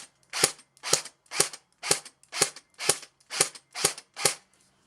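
A budget airsoft AK rifle fires 0.25 gram BBs over a chronograph, nine sharp, evenly spaced semi-auto shots in a steady rhythm, loud and close with no talking.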